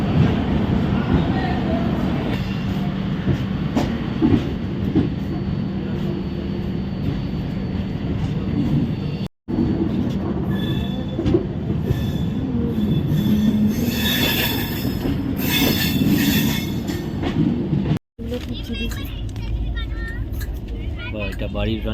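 The 12245 Duronto Express from Kolkata to Bangalore runs through Kharagpur station without stopping, heard from on board: a loud, steady rumble of wheels on rails with sharp squeals, and people talking throughout.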